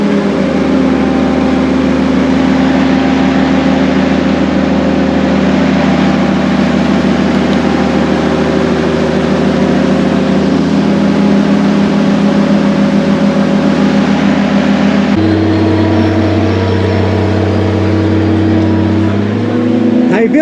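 A heavy boat lift engine drones loudly and steadily while hauling a boat out of the water, its low hum shifting pitch partway through as the machinery strains.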